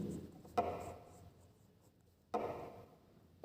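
Pen writing words in a notebook, soft scratchy strokes with two sharper taps of the pen on the page, close and quiet, no talking.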